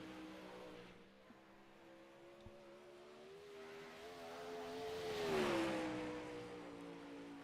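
Sprint car racing on a track in a sim racing game: an engine whine rising and falling in pitch, swelling louder as a car passes near before easing away, with no talk.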